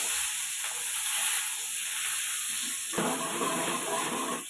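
Onion and mustard seeds frying in hot oil in a pan while making a brinjal poriyal, giving a steady close sizzle and hiss that turns noticeably louder and denser about three seconds in, when the onion goes in.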